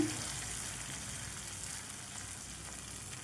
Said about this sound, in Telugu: మనం అయితే బోండాలు వేసుకుందాం చూడండి ఈ విధంగా వేసుకోవాలి చిన్న చిన్నవిగా వేసుకోండి